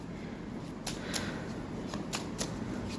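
Deck of tarot cards shuffled by hand, with soft riffling and flicking sounds in quick bursts close to the microphone.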